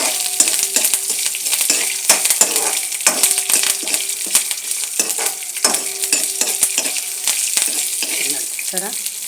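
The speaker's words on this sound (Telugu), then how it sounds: "పచ్చిమిర్చి కరివేపాకు కూడా వేసాను. వేగుతున్నాయి." Green chillies and curry leaves crackling in hot oil for a tempering, a loud close sizzle with dense spitting pops and a spoon clinking and stirring through it.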